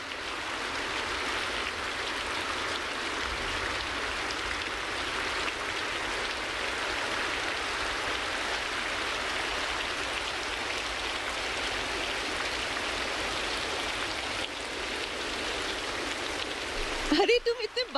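Steady, dense rain pours down continuously, a broad even hiss filling the whole stretch, with a brief knock or movement near the end.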